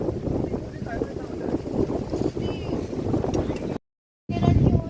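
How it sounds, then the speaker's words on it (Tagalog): Strong wind roars and buffets the microphone continuously, with a brief dropout near the end before the gusting resumes. "Grabe lang sa hangin."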